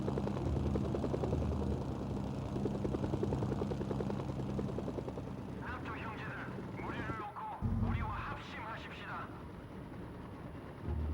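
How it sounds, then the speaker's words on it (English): Helicopters lift off in the PS2 game Mercenaries: Playground of Destruction with a loud, pulsing rotor chop for several seconds, followed by a voice talking over a quieter engine drone. "Helicopters have lifted off and are en route to Ichon."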